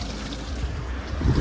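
Coolant water leaks from a split radiator on a 2015 Chevy 2500HD with a 6.0 flex-fuel engine, heard as a continuous close splashing trickle that swells slightly toward the end.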